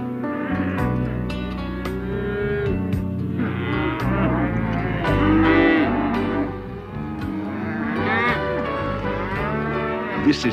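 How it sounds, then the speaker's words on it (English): Cattle on an outback station during marking and branding, with repeated loud, drawn-out moos and bellows from several animals overlapping one another, close by and continuous throughout. "today they're marking and branding their cattle"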